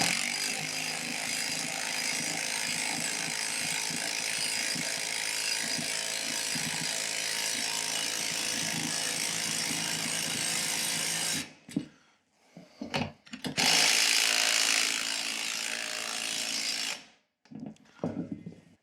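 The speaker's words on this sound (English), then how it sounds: "And we're going to drill this in here." A power drill drives a lug screw into a wall to hang a TV wall mount, whirring steadily and close for about eleven seconds, then stopping and starting in a few short bursts, with no talking.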